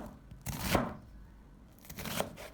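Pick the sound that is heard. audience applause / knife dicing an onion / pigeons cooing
knife dicing an onion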